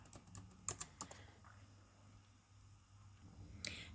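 Several quick, quiet keystrokes on a computer keyboard as a library card number is entered, a cluster of soft clicks early on, a pause, then one more tap near the end.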